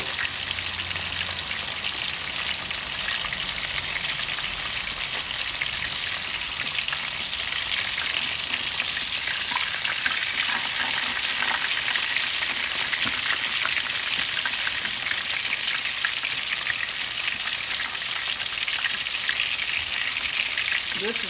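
Chicken for a spicy fried chicken sandwich frying untouched in a pan on medium stovetop heat, giving an even, continuous crackling sizzle like steady rain that holds close and constant throughout.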